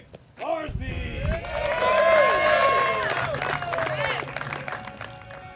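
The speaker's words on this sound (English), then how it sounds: "Let's get a big round of applause going" Spectators at the 2022 Texas State Disc Golf Championship applaud and cheer after a shot, a swelling burst of clapping and raised voices that peaks and then slowly tapers off.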